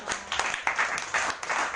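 A church congregation clapping for Jesus during a sermon, a brief burst of scattered, fairly close claps with uneven rhythm.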